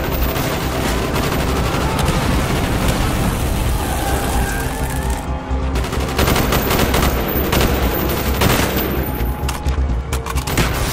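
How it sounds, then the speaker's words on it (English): Sustained video game gunfire from squad members laying down covering fire during a street fight, with dense overlapping bursts and shots rolling continuously at close range under loud battle noise. "Bowman, Carlos, lay down covering fire"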